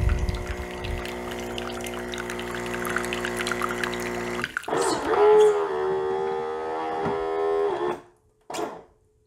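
A Terra Kaffe coffee machine runs a rinse cycle into a small dish, with a steady mechanical hum and whir, then a shift to a pumping, gurgling pour that stops abruptly, followed by a brief final burst.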